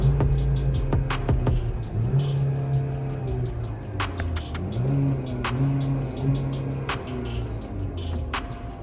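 Jeep Renegade Sport engine idling steadily after a push-button start, a low hum with small rises in pitch as the revs shift, close and continuous, with a few sharp clicks over it.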